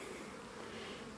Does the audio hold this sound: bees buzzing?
yes